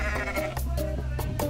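A goat bleats in the Goat Simulator video game, a loud repeated bleating voice with steady pitch over a constant game background bed, with no talk over it.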